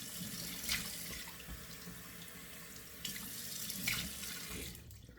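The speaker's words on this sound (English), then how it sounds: "So 2 splashes of cold water, very important." A bathroom sink tap runs steadily while cold water is splashed onto a face in two quieter bursts, with soft water noise close by and no talk.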